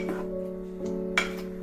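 Vegetables for veg biryani are sautéed in a pot, giving a low steady hum with a few scattered utensil scrapes and a sharper metallic clink near the end.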